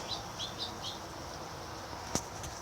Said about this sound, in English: those are birds right there, all perched up on my window